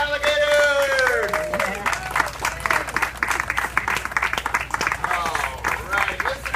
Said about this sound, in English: How about a big round of applause for the alligators?